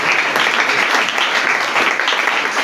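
A church congregation claps in sustained applause, many hands blending into a loud, even roar that holds steady throughout.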